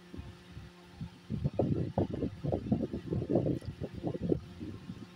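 A sewing machine stitches the body of a short burqa, making a soft, rapid run of rhythmic mechanical thumps that starts after a brief pause and continues at a quiet, close level.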